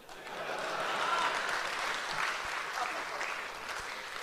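Audience applause at a poetry recital (mushaira): dense, sustained clapping from a crowd, steady and fairly loud throughout, slowly tapering near the end, with no one speaking.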